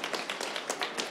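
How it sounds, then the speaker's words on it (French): Pitch competition audience clapping after a startup pitch, a fairly brisk patter of separate hand claps at moderate distance, sparse enough that individual claps stand out. "on vous applaudit, bravo"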